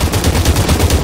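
Rapid automatic gunfire in the VR battle game Population: One, a loud close burst of about ten evenly spaced shots in quick rhythm, with no voices over it.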